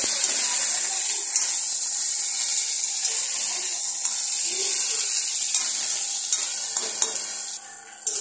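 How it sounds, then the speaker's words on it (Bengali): Green chilies and potatoes stir-fried with loti kochu in a pan give a steady, close sizzle with scraping stirring throughout, loud and continuous, no talk. "এবারে এর মধ্যে কিছুটা কাঁচা লঙ্কা দিয়ে দিলাম আর কিছু আলু দিয়ে দিলাম। ভালো করে একটু নাড়াচাড়া করে নিচ্ছি।"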